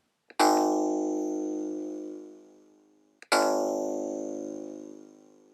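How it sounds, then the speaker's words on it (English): Two synthesized plucked-string notes made with the Karplus-Strong algorithm, each a bright metallic attack ringing out and slowly decaying, the second struck about three seconds after the first, clear and alone. "In this project, I used the basic pluck sound you just heard"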